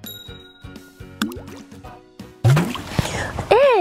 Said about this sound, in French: Hey, Jessica, arrête de m'éclabousser.